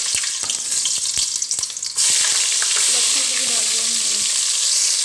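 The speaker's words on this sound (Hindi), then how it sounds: "तेल गरम हो गया, अभी मैं ये डाल देती हूँ।" Whole spices, black peppercorns, a star anise, six cloves and small cinnamon pieces, going into hot oil for egg curry: a few clicks and clinks, then a sudden loud steady sizzle.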